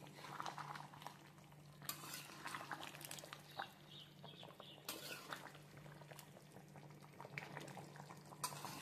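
Chicken curry gravy with boiled eggs bubbling and simmering in a pan, with steady soft bubbling and occasional spoon or lid clinks close by.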